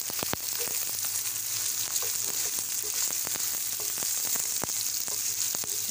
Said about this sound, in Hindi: अब हम थोड़ा सा लहसुन अदरक पेस्ट को फ्राई किया